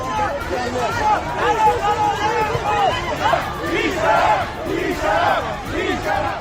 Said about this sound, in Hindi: यहां भी उग्र भीड़ पुलिस स्टेशन में आग लगा रही है।